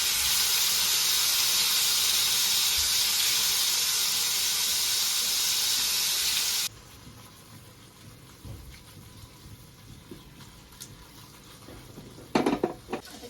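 Paneer pieces fry in hot oil: a loud, steady hiss for about seven seconds, then a quieter bubbling with a few clattering knocks from a pan near the end.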